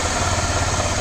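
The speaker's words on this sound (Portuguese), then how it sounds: "A moto funcionou ainda. Tá com barulho de biela" A fuel-injected motorcycle engine with connecting rod knock runs steadily at idle, a continuous close, loud low rumble with a fast even throb and no talking.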